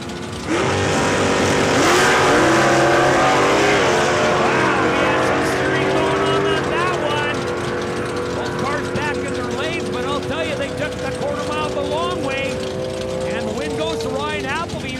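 Drag race cars, a Camaro among them, launch from the starting line at a raceway, a loud sustained engine roar that climbs and shifts through gears. A track announcer talks over it the whole time.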